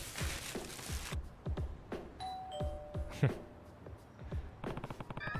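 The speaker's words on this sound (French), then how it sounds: "J'aurais jamais cru qu'il y aurait une sonnette dans un endroit pareil." Doorbell rings in a video game, a single chime with a couple of short ringing tones midway through, heard under busy game sounds with sharp impacts and clatter throughout.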